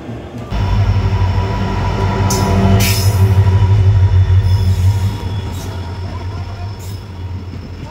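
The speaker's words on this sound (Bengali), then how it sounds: "এই যে ট্রেন আসলো।" A train pulls into a station with loud, sustained wheel squeal and rumbling railcars close by, peaking midway and then easing as it slows.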